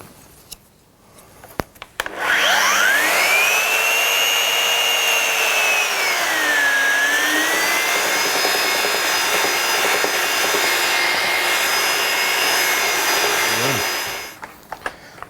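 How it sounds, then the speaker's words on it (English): A belt sander spins up and runs steadily across the wooden top of a portable toolbox, giving a loud, continuous whirring drone with a slight dip in pitch midway before winding down after about twelve seconds. "I'm going to very quickly just sand this top of the box with a belt sander"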